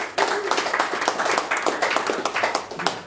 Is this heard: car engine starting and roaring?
no